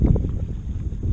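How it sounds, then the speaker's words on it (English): Wind gusts across open water as a storm approaches, a steady low rumble and buffeting around a small paddled fishing boat near Starnes Island, roughly ten knots, continuous and fairly close with no talking. "It's going to be a bitch because now the wind has picked up."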